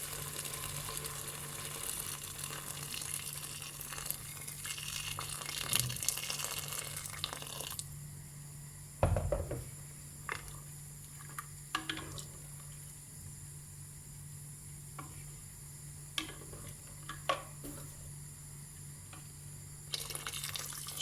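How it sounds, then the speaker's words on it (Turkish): Hot water is poured into a pot of chickpeas and ribs for a stew, a steady close pouring rush for about eight seconds, then quieter with scattered drips and light clinks. "Şimdi sıcak suyunu ekliyorum."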